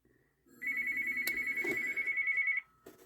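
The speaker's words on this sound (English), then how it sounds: "Phone call." A phone rings once during a workbench repair of an Akai AP-A1 turntable, a steady electronic tone lasting about two seconds, clear and fairly close, with faint handling noise around it.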